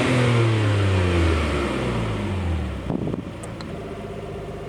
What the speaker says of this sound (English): Give the engine a little rev.